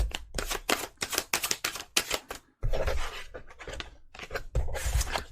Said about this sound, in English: If you do not like to watch the shuffling